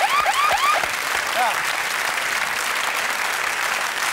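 Brief applause from a small television studio audience, steady clapping that includes a few whistles near the start and then stays constant at moderate loudness.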